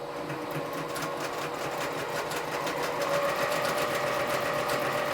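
A sewing machine runs steadily, stitching a quarter-inch seam along two pieces of fabric. The whirring hum stays close and continuous for the whole stretch, with no talking over it.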